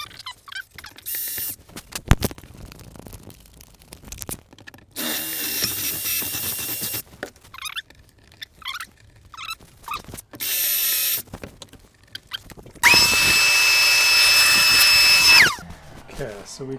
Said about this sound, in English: We'll drill a pilot hole.